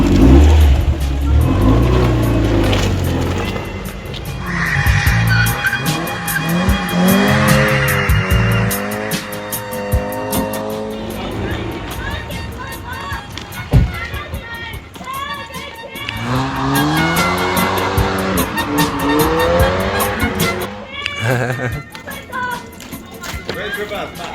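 Car drifting on the Mazda driving day, engine revving hard with rising and falling pitch sweeps and intermittent tire squeal, loud and close, with people talking over it throughout.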